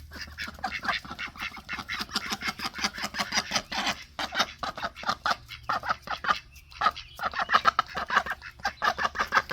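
A flock of ducks quacks busily and continuously, overlapping calls close by with no pauses.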